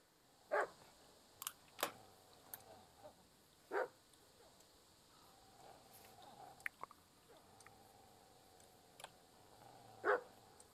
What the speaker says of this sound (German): Der bellt ein Hund und knurrt.